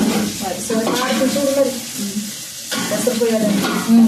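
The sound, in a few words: pouring water into basmati rice in hot pot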